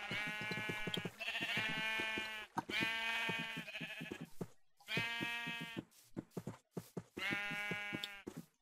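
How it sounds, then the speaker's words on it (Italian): Sheep in Minecraft bleat in a run of loud, close, tonal calls, several drawn-out bleats separated by short gaps and a few soft knocks, with no talking over them. "Trasportiamo queste pecore."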